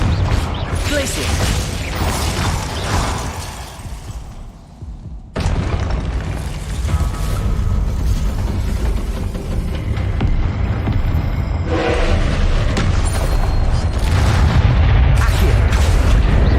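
Confringo and Glacius spells blast off in Hogwarts Legacy, heavy booming explosions and whooshing magical bursts layered over continuous rumbling game sound, with a brief lull before the barrage picks up again.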